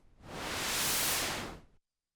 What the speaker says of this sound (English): It displays high because I'm in high pass noise mode